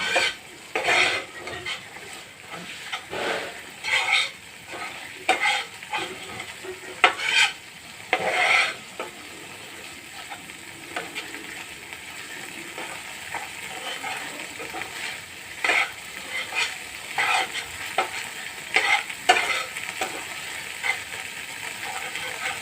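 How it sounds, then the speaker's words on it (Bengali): Ingredients for a prawn malai curry fry in a pan, a continuous sizzle broken by frequent metallic scrapes and clinks of a spoon stirring against the pot, close and fairly loud throughout. "এটা একটু ভেজে নেব"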